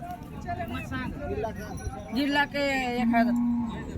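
Cattle moo at the Sunday-morning Patoda bullock market, with drawn-out, fairly close lows rising over a busy background of talking and market chatter.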